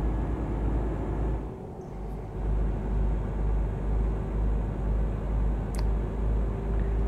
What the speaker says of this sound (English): It's the noise of the truck, I don't think they like it too much.